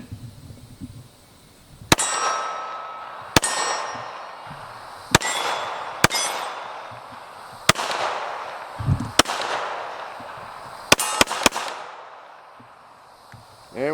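Glock 21 SF .45 ACP pistol fired outdoors, about ten sharp, loud shots spaced unevenly, including a quick cluster near the end, each followed by a ringing decay.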